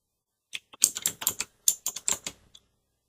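Quick, crisp keystrokes on a computer keyboard, a short irregular burst of about a dozen clicks, close and isolated against silence.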